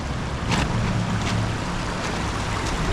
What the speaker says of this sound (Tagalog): Lakas po ng baha.